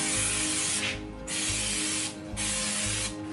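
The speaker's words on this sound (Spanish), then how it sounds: "Vamos a ponerle un poco de cooking spray para que no se pegue." Cooking spray hisses onto a pan in three or four short bursts with brief pauses between, loud and close, with no talking.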